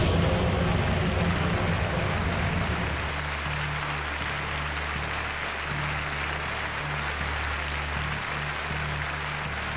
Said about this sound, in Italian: Anche per Serena l'applauso del pubblico del palazzetto